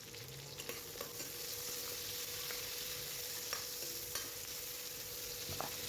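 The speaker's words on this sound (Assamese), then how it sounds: "এতিয়া পিঁয়াজ, নহৰু, জলকীয়া সকলোখিনি ভালদৰে ভাজি ল'ম।" Onion, garlic and chili fry in oil with cumin seeds. A quiet, even sizzle runs throughout, broken by occasional light spatula clicks.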